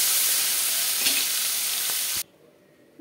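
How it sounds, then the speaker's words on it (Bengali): Halved large prawns fry in hot oil with a loud, dense, steady sizzle close by, a couple of faint clicks within, then the sound cuts off abruptly near the end. "তেলটা গরম হয়ে গেছে, আমি চিংড়ি মাছটা ভেজে তুলে নেব।"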